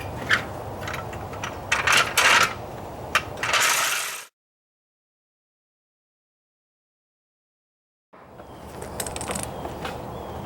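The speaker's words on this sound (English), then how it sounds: "So let's go ahead and jack it up." Ratcheting jack work on both sides of a Mercury Villager / Nissan Quest minivan as the front is lifted for a brake job, with clicking mechanical cranking for about four seconds, then silence, then more cranking near the end.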